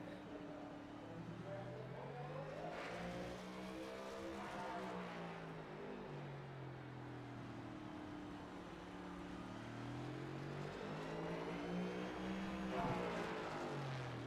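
NASCAR stock cars racing around the tight temporary track at the LA Coliseum, held in second gear, engines droning and rising and falling in pitch as cars pass, loud and continuous under faint commentary.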